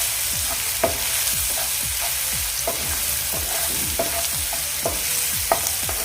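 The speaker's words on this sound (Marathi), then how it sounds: "आता हे आपण व्यवस्थित मिक्स करून घेऊया परतून घेऊया व्यवस्थित" Cabbage sautés in a pan with a steady sizzle, while a utensil scrapes and stirs it in repeated quick strokes, close and clear with no voices.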